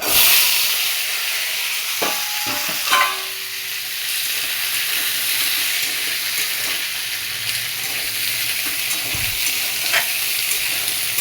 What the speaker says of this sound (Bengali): এবার আমি কুমড়োগুলো দিয়ে দেবো কেটে রাখা কুমড়োগুলো আমি দিয়ে দিলাম